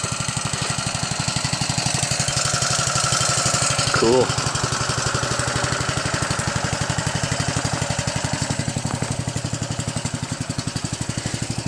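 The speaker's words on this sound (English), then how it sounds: "the Honda's nice and quiet, so you can run it at night." A homemade generator driven by a Honda engine runs at a steady, even chug, close and continuous, with a brief spoken word partway through.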